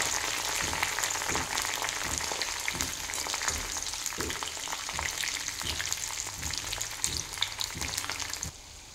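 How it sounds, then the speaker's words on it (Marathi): Leftover roti pieces deep-fry in hot oil with a dense, steady crackling bubble and regular soft knocks of a ladle, with no voices. "ते आता आपण तेल गरम झाल्यावर तेलात तळून घ्यायचे आहेत."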